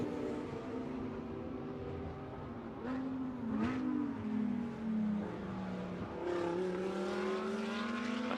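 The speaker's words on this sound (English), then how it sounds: "Distinctive Audi engine note sings its way out of turn 11." An Audi GT2 race car at Valencia accelerates out of turn 11, its engine note rising through the gears as a steady, strong drone at moderate distance, with no talk over it.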